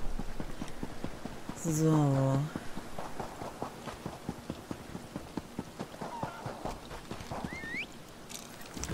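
Horse hooves in The Elder Scrolls Online, a steady rapid clip-clop while riding under rain-like patter, with a brief horse whinny early on and someone talking over it.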